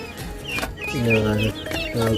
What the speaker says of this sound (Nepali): 10 दिन पुगेको चल्लाहरू छ यहाँ।